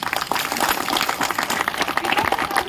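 An audience claps together in steady, dense applause, with no voices over it.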